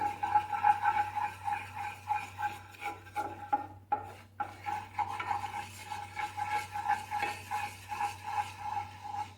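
Lasagna sauce is stirred quickly in a pot with a fast, steady run of soft scraping strokes, quiet and close over a low background hum, with no talking.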